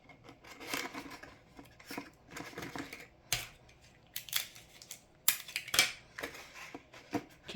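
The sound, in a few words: applying pieces of tape to a cardboard game box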